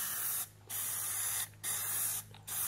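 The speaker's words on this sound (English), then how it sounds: "So I've already shaken up the can, spraying out anything that might be stuck in the nozzle" Plasti Dip aerosol can spraying onto car emblems in three close, steady hissing bursts, each about a second long, separated by short pauses.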